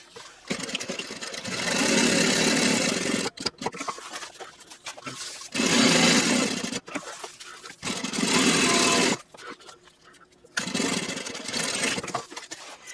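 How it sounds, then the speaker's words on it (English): Sewing machine stitching up the three sides of a backpack pocket, close and loud, running in several sustained bursts of a few seconds each, separated by short pauses and clicks as the fabric is turned. "sew up all 3 sides of my pocket, closing it all the way"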